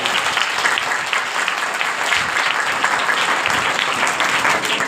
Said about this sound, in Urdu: ایسے نہیں، زوردار تالیوں